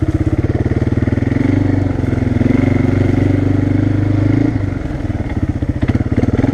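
An ATV quad engine running in low gear on a trail, a loud, close, rapid rhythmic chugging that holds steady, then eases and becomes more uneven toward the end.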